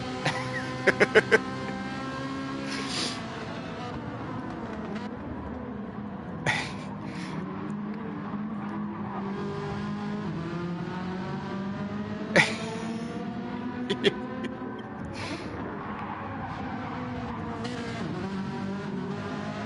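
A Ferrari race car in Gran Turismo 7 at Laguna Seca drones steadily as its engine rises and falls through the gears, with a few sharp clicks and bursts from shifts breaking the continuous, close-up roar.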